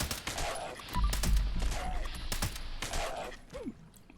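Rapid automatic fire from a Fixer rifle in Fallout 76, fitted with faster fire rate and an aligned barrel, sounds as a string of close, sharp shots. A loud cluster comes around the middle of the clip over a busy game background.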